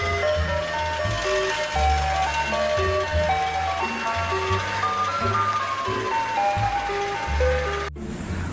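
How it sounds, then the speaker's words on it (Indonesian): A toy ice cream truck plays its jingle, a loud, bright, tinny looping melody with a steady repeating pulse underneath, running continuously until it cuts off abruptly near the end. "Wow, ini ada mobil es krim teman-teman."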